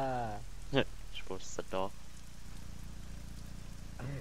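Heavy rain in ARMA 3 keeps up a faint, steady hiss beneath short bursts of German speech.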